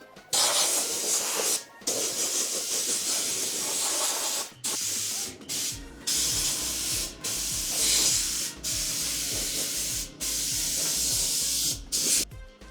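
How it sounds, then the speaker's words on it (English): Compressed air blasting dust off freshly sanded fender flares for a Cherokee XJ, loud hissing bursts of several seconds each separated by brief pauses, close and without talk. "We're gonna blow them off real quick because they're all covered in dust."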